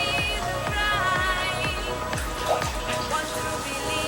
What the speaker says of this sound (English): So I'm going to add the water to this